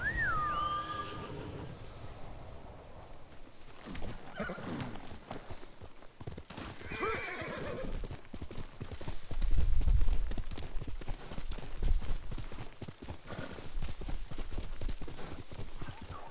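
Horse hooves galloping in the samurai video game Ghost of Tsushima, a steady rapid clip-clop rhythm that swells louder midway, with a brief whinny and faint game ambience and no talk.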